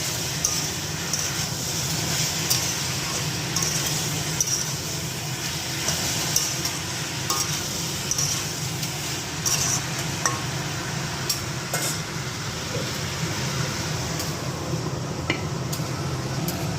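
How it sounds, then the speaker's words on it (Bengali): Vegetables frying in a covered pan while khichuri cooks for a Vishwakarma Puja lunch, giving a steady, even sizzle that stays close and constant throughout, with no talking. "আমি ওই সবজিটা ভেজে নেব পাঁচ দশ মিনিট ঢেকে ঢেকে"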